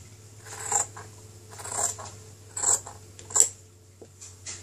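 Scissors snipping through a cotton t-shirt, about five separate crisp cuts spaced roughly a second apart, close and clear over a faint steady background hum.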